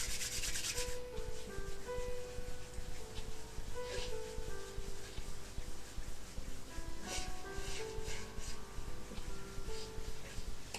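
Hands rubbed briskly together during a Chen style t'ai chi health exercise, a continuous close rasping friction that keeps an even level throughout without pauses.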